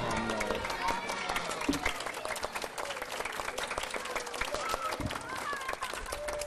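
An audience at an Islamic school graduation in a hall gives sustained applause, dense and continuous, with crowd voices mixed through it.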